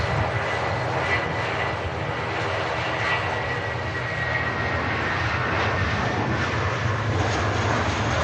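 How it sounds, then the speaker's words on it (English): A British Airways airliner departs from Manchester Airport bound for Heathrow, its engines giving a loud, continuous broadband roar that holds steady throughout, with no speech over it. "Here you go, British Airways. Heading back to Heathrow."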